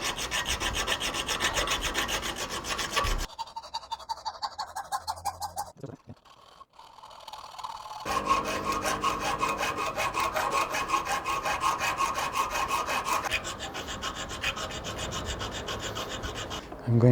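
Steady rhythmic rasping of a metal file on stainless steel clamp holders, removing countersinking burrs, close and loud, with a short pause midway before the harsh back-and-forth strokes resume.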